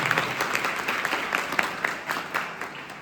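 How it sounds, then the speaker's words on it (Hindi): Applause from an audience at an event on preparing for the UP Board exams in Sitapur, a steady patter of many hands clapping, fairly loud, lasting about three seconds with no talking over it. "जोरदार तालियां बजा दीजिए आपके लिए"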